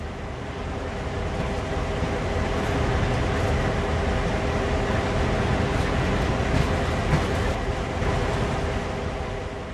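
A steady, loud rumble of a video-game freight train coasting along, with a constant low drone and faint rhythmic clatter.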